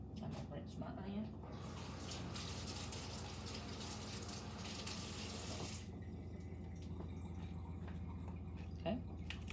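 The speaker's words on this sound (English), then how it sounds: "I'm gonna rinse my onion." A kitchen tap runs for a few seconds as an onion is rinsed under it, a fairly quiet steady rush of water that then stops, amid faint kitchen handling noises.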